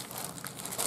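A plastic packaging bag crinkles briefly during an unboxing, a quick, close burst of crisp rustling that lasts under a second.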